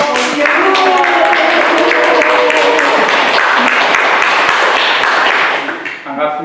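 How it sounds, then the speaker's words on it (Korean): Loud, dense applause fills a hall at a Won Buddhist temple gathering, welcoming a lecturer to the front; steady clapping runs nearly the whole time with voices mixed in, then tapers off at the end. "박도명 강사님을 큰 박수로"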